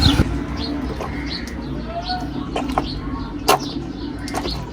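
Pigeons cooing in soft, repeated throaty calls mixed with a few chirps and brief sharp knocks or wing flaps, close by, with faint voices in the background.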